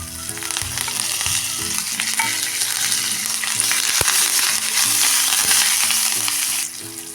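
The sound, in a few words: chili and curry leaves frying in hot oil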